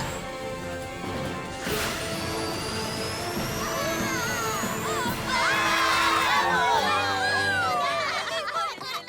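A crowd of ponies in the My Little Pony cartoon cheers and shouts together after a crash, with a whooshing sweep and lively chatter building in the middle and fading out.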